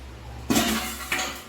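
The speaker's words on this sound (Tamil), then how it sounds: "இது வந்து பால் காய்ச்சின பாத்திரம்." A metal milk-boiling pot handled on a home kitchen shelf, giving two clanking knocks a half-second apart with a brief metallic ring, close and moderately loud with no talking.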